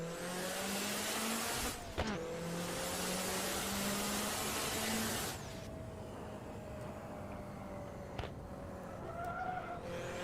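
A Honda S2000 sweeps through corners at full speed in a racing video game, its engine droning high and steady with shifting pitch and faint tire noise, then easing off.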